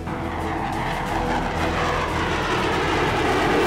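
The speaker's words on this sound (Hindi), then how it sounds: "ये सुरमई रंग का विमान इजराइल का F-15 फाइटर जेट है" Israeli F-15 fighter jet in flight, a loud, continuous broadband roar that holds steady and swells slightly toward the end, with no voices.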